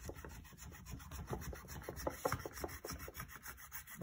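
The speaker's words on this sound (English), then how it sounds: "Take your knife and carve it down a bit." A knife scraping and carving down thin leather while making a mule shoe, heard as a close, steady series of short rasping strokes with no talking.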